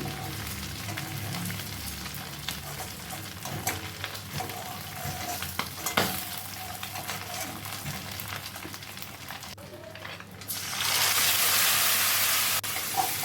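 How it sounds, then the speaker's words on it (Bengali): Taro leaves (kochu shak) frying in hot oil in a pan, a dense continuous sizzle with scraping stirs throughout, rising to a louder hissing burst near the end. "এর মধ্যে আমি এবার কচুর শাকটা দিয়ে দেবো দিয়ে অনেকক্ষণ ধরে কচুর শাকটা আমাকে ভাজতে হবে"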